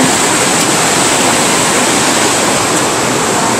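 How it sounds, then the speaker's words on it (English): A small river on Mt Washington, New Hampshire rushes loudly and steadily, a dense, continuous roar of flowing water close by with no voices over it. "Got a little river."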